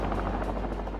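Helicopter in a 1963 winter newsreel of deep snowdrifts, its rotor chopping in a fast, even pulse over a low engine drone, loud and close throughout, with no talk.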